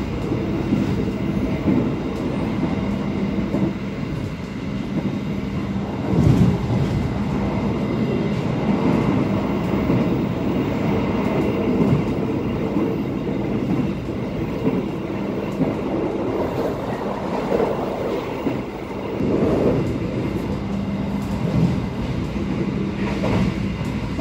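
A passenger train running straight through Magetan station without stopping, heard as a steady rolling rumble with faint rail clatter throughout and no voices.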